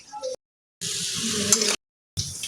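Fish frying in a saucepan gives a steady broadband sizzle in short bursts, broken by abrupt silent gaps, with a brief louder crackle near the middle and no voices.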